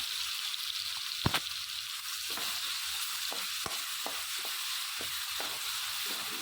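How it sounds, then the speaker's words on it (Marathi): Ginger, garlic and coriander paste frying in hot oil gives a steady, close sizzle, broken by a few soft stirring scrapes and light knocks in the pan. "अद्रक लसणाची पेस्ट छान फ्राय करून घेऊया"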